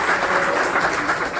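Crowd applause welcomes Deputy Chief Minister Samrat Choudhary at a BJP office event in Patna, a dense, steady patter of clapping filling the whole brief moment at moderate volume.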